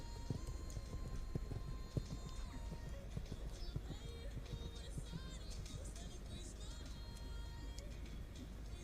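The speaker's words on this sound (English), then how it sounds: "Now for this medium canter down the long side." Horse hooves canter in a steady clip-clop rhythm across a dressage arena during an FEI Eventing young riders' dressage test, moderately close, with a commentator's voice talking over the hoofbeats and faint crowd background.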